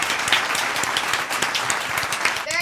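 A short burst of steady applause from several hands, loud and close, ending with a brief bright tone.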